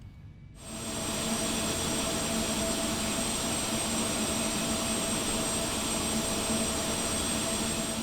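A twin-engine Carenado 390 Premier 1A business jet in the X-Plane 11 flight simulator runs its left engine start: a quick rise into a loud, steady turbine roar with a high whine that holds for the rest of the clip, with no talking.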